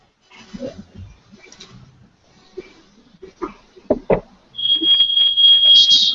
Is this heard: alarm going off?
yes